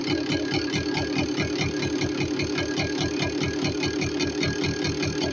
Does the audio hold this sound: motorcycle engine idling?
yes